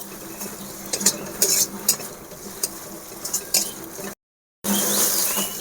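Chilli powder and masala spices fry in a pan for paratha filling, giving a soft sizzle under repeated metallic spoon scrapes and clinks. The sound cuts out briefly, then returns as a steadier frying hiss.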